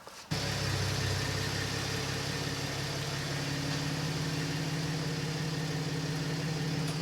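A pickup truck's engine fitted with a boost mod runs at a steady idle, a constant mid-low drone with a faint even pulse, starting abruptly and holding unchanged and fairly close throughout.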